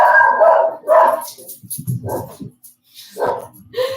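A dog in a home during a ballet class barks twice in quick succession, loud and close, then gives a lower whine and a few more yips after a short gap.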